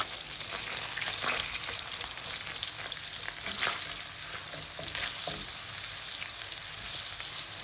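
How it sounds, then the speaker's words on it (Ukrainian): Chicken liver for pâté fries in a pan until softened, giving a soft, steady sizzle with scattered light crackles and pops, fairly quiet and without talking. "і жаримо до того моменту, поки вона просто не смягчіє"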